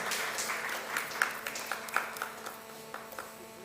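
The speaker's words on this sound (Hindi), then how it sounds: "जोरदार तालियां हो जाए लेडीज एंड जेंटलमैन" Faint, scattered clapping from an audience at a ceremony honouring a guest, irregular claps over a low steady hum, quiet and somewhat distant.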